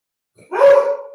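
A pet dog gives a single short, whiny bark or yip close by, ending in a drawn-out tonal whimper, with no one talking over it.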